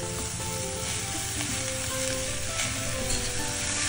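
Maswadi masala with plenty of chopped coriander is sautéed in a pan, giving a close, loud, unbroken sizzle and crackle with faint stirring scrapes and no speech.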